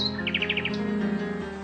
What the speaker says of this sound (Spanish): el ruiseñor